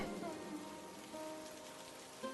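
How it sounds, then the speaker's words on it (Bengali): Steady, soft patter of rain falling on a surface in a deserted park, quiet and even throughout, with no voices. "বৃষ্টি হচ্ছে।"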